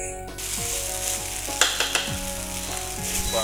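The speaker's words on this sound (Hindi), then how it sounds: "एक बार टॉस कर लें।" Schezwan fried rice tossed in a hot pan with a steady loud sizzle, a few clanking knocks of metal in the middle, and whooshing tossing motions throughout, close up with no talking.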